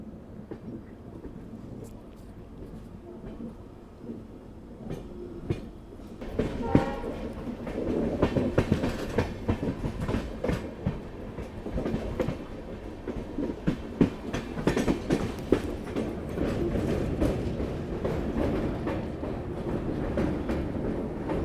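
Gomateshwara Express passenger train running on rails between Mangaluru and Bengaluru, pulling away after an unscheduled technical halt: a steady low rumble with rhythmic clickety-clack that swells louder and busier from about seven seconds on, with no talk.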